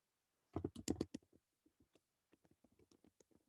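Typing on a computer keyboard: a quick loud burst of close key clicks, then lighter scattered taps at an uneven pace in a quiet room.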